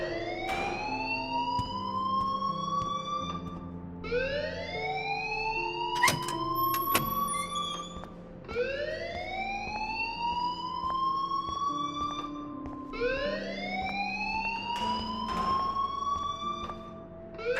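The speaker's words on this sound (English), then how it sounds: "please turn off that alarm" An alarm wails in the video game Life Is Strange, a loud rising siren-like sweep repeating about every four seconds over a steady tonal drone, with no talking.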